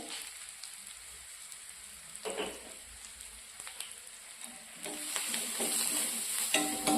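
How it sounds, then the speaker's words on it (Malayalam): Garam masala and salt sauté in a hot pan, giving a soft, continuous sizzle with occasional scraping stir strokes that grow louder toward the end, fairly quiet and close, with no talking. "പച്ചമണം മാറുന്നത് വരെ വഴറ്റുക"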